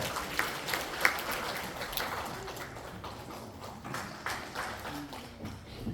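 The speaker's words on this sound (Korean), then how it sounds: "뜨거운 박수로 환영해 주세요" Audience applause greets the welcome address at an environmental conservation organisation's ceremony, a moderately faint, steady patter of clapping with a few sharper claps near the start, lasting throughout.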